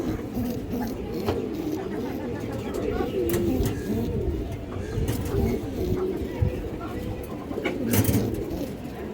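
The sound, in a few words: pigeon cooing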